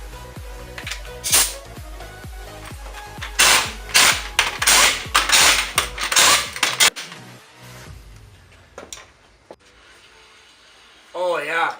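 An impact wrench or ratchet tightens lug nuts on a 2003 Mustang's wheels in a garage, firing repeated sharp bursts in quick succession that then give way to quieter clanks and handling noise.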